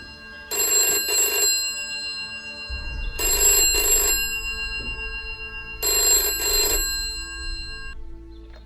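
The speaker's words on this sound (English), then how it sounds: "The telephone rings." An old telephone bell rings in the naval game Sea Power, set on Altis in 1974: three loud, close bursts of double rings with pauses between them, over a low rumbling hum.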